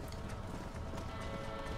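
Horse hooves clip-clopping in a western video game, a quick steady run of hoofbeats at moderate distance with no voices.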